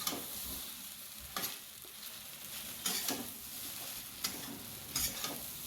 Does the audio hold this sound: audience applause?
no